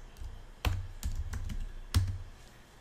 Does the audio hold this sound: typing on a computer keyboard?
yes